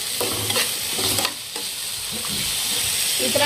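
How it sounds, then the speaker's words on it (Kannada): Garam masala being stirred into tomato paste in a frying pan for an egg tawa fry, a close, steady scraping and stirring with soft sizzling underneath, a few louder strokes along the way. "ಗರಂ ಮಸಾಲ ಹಾಕೊಂಡು ಕೂಡ ನೋಡ್ರಿ, ಪೂರ್ತಿ ಇದ್ರ ಮಿಕ್ಸ್ ಮಾಡ್ಕೊಳ್ಳ್ರಿ"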